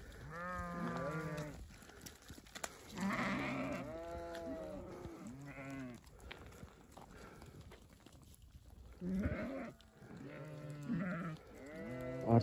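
Sheep out on spring pasture bleat loudly in several drawn-out, wavering calls, some overlapping, with quiet gaps between bursts and no talk.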